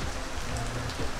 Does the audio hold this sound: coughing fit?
no